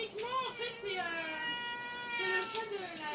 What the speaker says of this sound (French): Et il y a le chat.